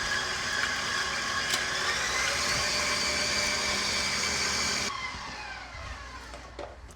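An electric mixer whips olive oil cake batter, a steady loud motor whine with a high harmonic tone for about five seconds before dropping to a quieter, winding-down hum.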